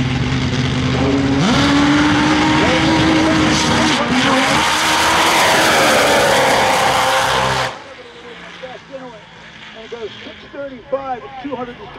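A top fuel nitro drag motorcycle roars down the strip at Dragway 42, a loud, harsh blast lasting several seconds before cutting off abruptly, followed by a quieter stretch with voices and birdsong.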